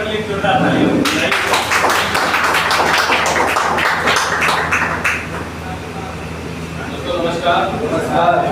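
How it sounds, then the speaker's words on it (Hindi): Clapping from an audience for a presenter at the close of a short introductory programme, a burst of hand claps that fades after a few seconds and gives way to a speaking voice. "अभिनव सर के लिए जोरदार तालियां।"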